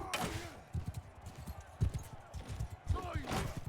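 Galloping horse hooves thud in a rapid, uneven clip-clop rhythm during a Mount and Blade 2 Bannerlord battle, with someone talking over the steady hoofbeats.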